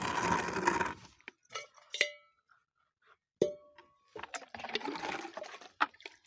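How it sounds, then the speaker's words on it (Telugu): Water is poured onto newly planted chilli plants in a short rushing splash that stops after about a second, followed by scattered metallic clanks and dings from a container being handled nearby. "నీళ్ళు పోసుకోవాలి."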